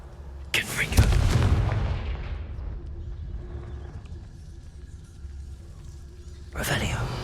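In Hogwarts Legacy, the Confringo fire spell bursts with a sharp whoosh and a heavy booming blast that rumbles and decays over a couple of seconds, followed by a quieter lull and a second burst near the end, with a voice speaking.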